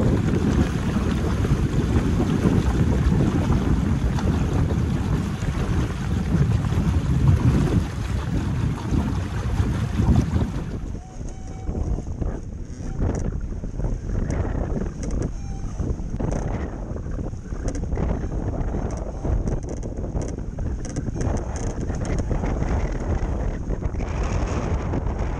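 Strong wind buffets a sailboat beating upwind in rough water, a loud roar for the first ten seconds, then gustier rushing and splashing against the hull with the breeze still pressing.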